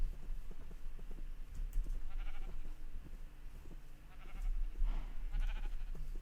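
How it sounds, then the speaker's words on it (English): Sheep bleating in a Minecraft-style video game, a few faint short bleats over a low steady background, with no talking. "Oh, I got more sheep again."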